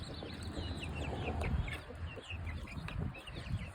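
Chickens in a chicken tractor moved daily to fresh lawn, clucking steadily at close range with frequent short calls over a soft scratching and rustling bed of noise, no talking.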